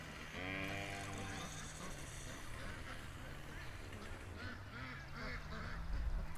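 Ducks quack in a noisy farmyard, with harsh honking calls loudest in the first couple of seconds, then scattered quacks continuing under steady background noise and occasional voices.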